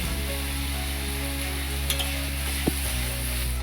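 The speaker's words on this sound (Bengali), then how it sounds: "এবার বেগুন ভাজার জন্য এতে তেল দিয়ে দিচ্ছি" Eggplant frying in oil with a little turmeric and salt, a steady soft sizzle under a low hum, with a couple of brief clinks from a utensil against the pan.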